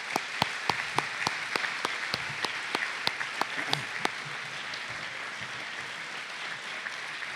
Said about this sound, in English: please join me in giving a round of applause to show appreciation to our teachers